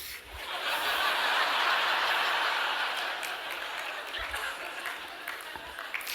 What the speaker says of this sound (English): I got a few claps on that